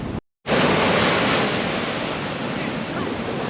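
Ocean surf rolls steadily onto Alappuzha beach, a broad continuous wash of breaking waves heard up close and loud, broken only by a brief moment of silence at the very start.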